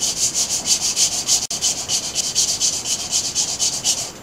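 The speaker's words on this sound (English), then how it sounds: "So sandpaper over it" Sandpaper rubs back and forth over a wooden bokken in quick, steady strokes, making a close, evenly rhythmic rasping with one brief pause partway through.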